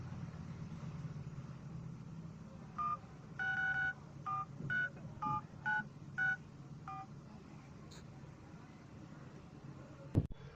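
A phone number is dialed, producing a string of about nine short keypad tones in an uneven rhythm over a low background hum, followed moments later by a faint click.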